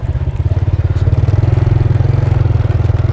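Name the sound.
motorcycle riding uphill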